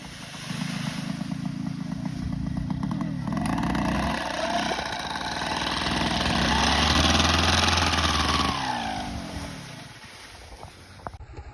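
A paramotor engine drones at a steady buzzing pitch, swelling louder through the middle as the throttle builds, then easing off toward the end, heard outdoors with no talking.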